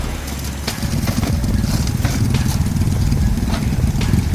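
A small motorbike converted to haul soil on rough dirt terrain runs steadily and loudly close by, a rough throbbing drone with a few sharp clacks.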